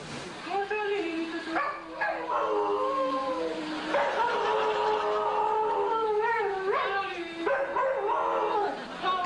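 Several dogs howling together in long, wavering, rising and falling tones that sound almost like singing, with yips and breaks between phrases, close and fairly loud.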